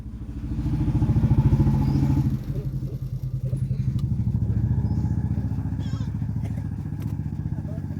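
Sewing machine stitching tucks into a high-neck blouse, a steady close mechanical whirr with rapid rhythmic clatter that runs throughout and eases slightly partway.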